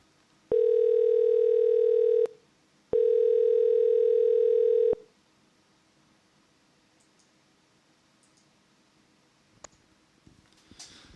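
A telephone dial tone sounds after a call is hung up, as two long steady loud tones separated by a short gap, then quiet line noise with faint clicks and rustling.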